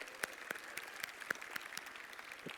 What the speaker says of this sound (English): let's do a round of applause to all the volunteers that actually help make this event